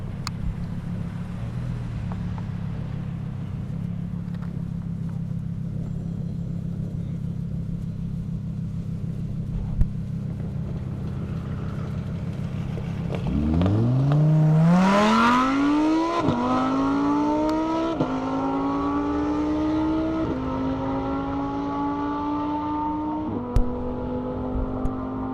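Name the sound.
race cars, Toyota Supra and Lamborghini, at airstrip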